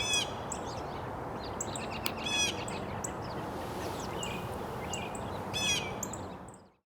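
A red-winged blackbird in a park calls several times with short, buzzy chirps and trills over a steady hiss of outdoor background noise, moderately distant and with no speech.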